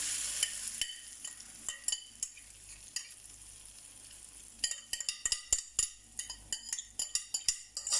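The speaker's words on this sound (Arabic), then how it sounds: "كنخلي المقله حتى تتسخن مزيان، وكنجيب هاد الطورتيه اللي خلطنا مزيان" A Spanish potato tortilla mixture cooks in a hot frying pan: a soft sizzle broken by quick, sharp clinks and taps of a utensil, growing busier toward the end.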